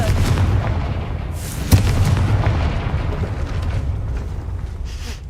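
A Confringo fire spell bursts in Hogwarts Legacy: one sharp explosive boom lands mid-clip over a continuous deep, rumbling roar of game ambience, loud and close.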